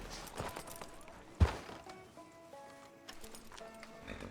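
Horse hooves clip-clopping at a walk in the Red Dead Redemption 2 video game, quiet and soft over faint game ambience, with one sharp thump partway through.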